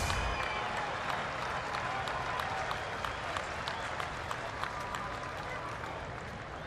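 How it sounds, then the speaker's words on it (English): A sparse crowd at a Cardinals at Phillies baseball game cheers and applauds, a steady, distant wash of clapping and murmur that runs under quiet commentary throughout. "This sparse crowd trying to come alive."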